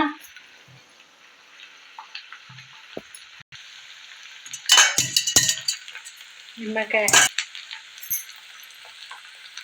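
Fish fries in hot oil with a constant hiss, broken by a few bursts of louder crackling and stirring near the middle and end.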